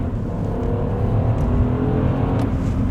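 A car accelerating in the city, steady engine drone rising slightly with low rumble, heard close from inside or near the car, no talk.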